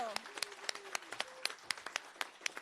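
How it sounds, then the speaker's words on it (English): Scattered claps from an event audience ring out at a steady pace, several hands clapping nearby, with a voice talking briefly at the start. "Another round of applause for Brandywine High School."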